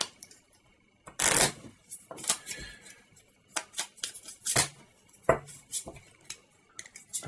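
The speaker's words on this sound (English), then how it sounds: "We'll give these a good shuffle." A deck of 24 game cards being shuffled by hand, with irregular crisp riffles, snaps and taps spread across several seconds, close and without talk.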